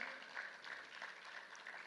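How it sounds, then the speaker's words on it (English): Applause from the audience at an agricultural technology panel session, heard faint and distant as a soft, continuous patter of clapping with no voices over it. "Can you clap for Dr. Gizao?"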